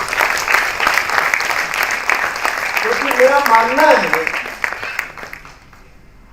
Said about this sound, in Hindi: उस मातृशक्ति के योगदान के लिए एक बार जोरदार तालियां बनती है